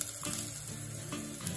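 Leek tipped into a pan of softened onion starts a steady close sizzle of frying, with a few soft stirring and scraping touches and small bursts as it settles.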